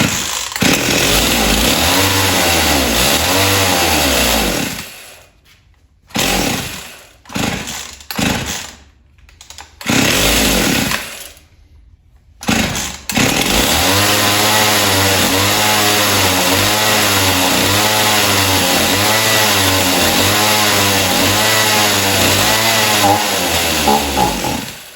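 A Husqvarna 51 chainsaw after a rebuild and carburetor work: the engine snarls and revs, cuts out and sputters through several brief restarts, then settles into a loud, steady running drone.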